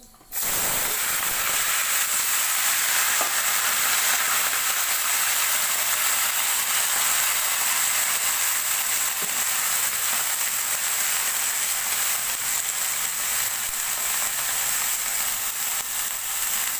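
Panch phoron, cumin, chillies and bay leaves sizzling in hot oil for a vegetable fry, a loud, steady hiss and crackle that starts abruptly and continues unbroken, with faint pops throughout.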